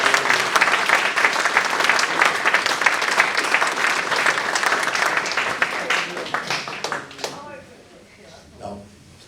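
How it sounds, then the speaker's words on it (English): Sustained applause from an audience at a 2014 awards evening, dense clapping that holds loud and steady before tapering off to a few scattered claps. "So a big round of applause."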